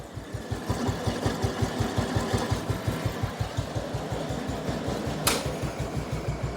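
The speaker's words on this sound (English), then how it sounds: "My deck is engaged and I'm off the mower." Riding lawn mower idling steadily with its cutting deck engaged, a continuous low pulsing engine drone throughout with one brief sharp click near the end; no talking.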